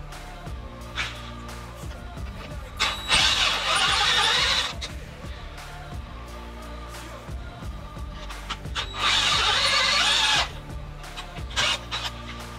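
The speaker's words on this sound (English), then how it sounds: "We can go ahead and start getting into drilling this hole out now." A power drill whines and grinds while drilling out a stripped threaded hole for a Helicoil repair in two sustained bursts, separated by quieter handling noises and a few short revs.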